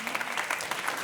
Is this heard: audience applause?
yes